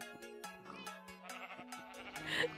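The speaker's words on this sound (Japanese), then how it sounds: "羊さんは分かってた。" Sheep bleat in the Minecraft video game, several short wavering cries in quick succession, with game sounds around them and no talk.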